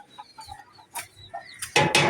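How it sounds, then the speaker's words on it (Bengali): Short clucks and calls from a pet hen, several brief bursts in quick succession that grow louder toward the end, close by with faint background noise. "আর সে আমার রাগিনী মুরগি"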